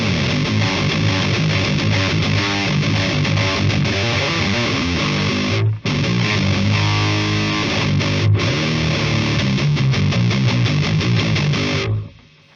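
An electric guitar runs through a Spark booster pedal on its settings into an Orange Dark Terror amp, playing dense, continuous distorted riffs with a brief break near the middle and an abrupt stop at the end.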